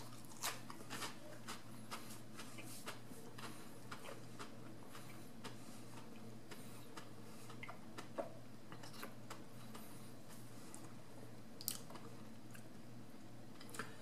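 Crunchy, wet chewing of a chip coated in very hot pepper sauce, close and quiet, with soft irregular bites and mouth noises over several seconds, alone without talk.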